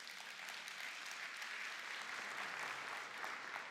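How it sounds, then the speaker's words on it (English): Steady, fairly soft audience applause at a Microsoft Build keynote, even dense clapping filling the whole stretch with no speech over it. "You can clap for it."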